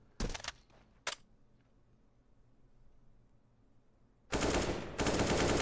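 Gunfire in a Rainbow Six Siege esports match: a quick pair of close shots and another single shot, then a quiet stretch before a heavier sustained burst of rapid fire at the end.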